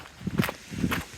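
A few footsteps passing through gates at the end of a seawall walk near Sprey Point, two or three close, soft scuffing steps on a hard path.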